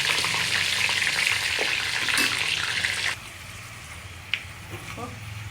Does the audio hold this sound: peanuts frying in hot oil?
yes